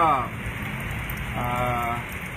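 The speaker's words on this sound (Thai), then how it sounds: "ตอนนี้ฝนเริ่มซาลงแล้ว" Rain patters steadily on surfaces outdoors, a moderate, continuous hiss of drops with no break, while faint tonal sounds come and go in the background.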